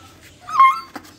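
A young dog with a deformed toe whimpers in a short, high whining cry that swells to a close, clear peak, then breaks off with a sharp yip near the end.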